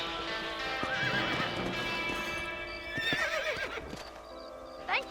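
In the Red Dead Redemption video game, horses whinny in long, shrill neighs while hooves clip-clop steadily beneath, fairly quiet, with no talking.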